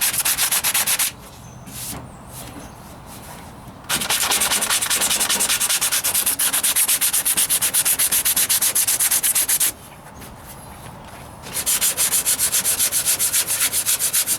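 Hand sanding of body filler on the driver's side wheel arch of a 1998 Ford Ranger, a steady close rasping scrape that runs continuously, easing off briefly twice before resuming at full strength.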